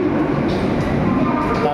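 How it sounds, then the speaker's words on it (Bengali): The Shalimar Express pulls out of a station near Bhubaneswar with a steady, even rumble of rolling carriages heard from inside, and a voice talks over the noise. "দাঁড়ানোর পর আমাদের ট্রেনটা ছাড়লো।"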